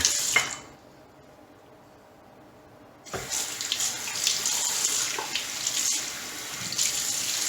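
Water runs steadily from a tap into a sink for a rinse, a brief splash first, then a quieter pause before a full, continuous hiss of flow resumes close by.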